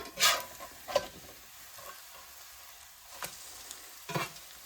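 Scrambled eggs in a cast iron pan, partly set and still a little wet on top, give a soft frying hiss. A few sharp spatula scrapes come near the start and again toward the end, with no talking.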